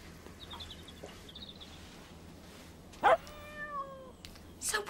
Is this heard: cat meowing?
yes